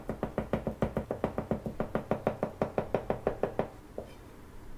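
Garlic is minced finely with a knife on a cutting board: a brisk, even run of about twenty sharp chopping knocks, close and clear, ending with a single last tap.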